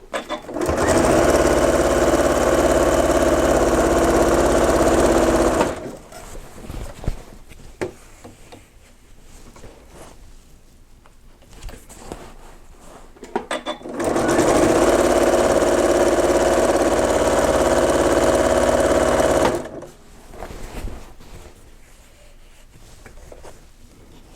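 A sewing machine stitching quilt binding runs in two long steady bursts of loud, even motor hum, each about six seconds, separated by quieter handling noises and light clicks, with no one talking.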